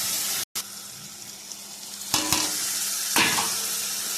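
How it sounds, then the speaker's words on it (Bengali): Spice paste being stirred and fried in a pan, a continuous sizzle with a few scraping strokes of the spoon, close and steady, with no talking. "সবটা দেওয়ার পরে একটু মশলাটাকে ভালো করে কষিয়ে নেব"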